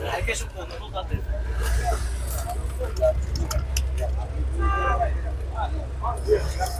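Busy outdoor car market in Chiroqchi, with idling and passing car engines, a low rumble of traffic and a murmur of crowd chatter around a nearby speaking voice.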